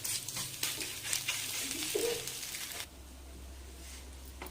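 Spiced eggs seasoned with salt and pepper powder being mashed and stirred in a pan, giving a soft continuous scraping and stirring with a light sizzle, close by and fairly quiet, with no talking.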